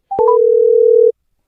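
A telephone dial tone while calling a cell number: a short rising pair of beeps followed by a steady, loud tone lasting about a second, alone with no talk.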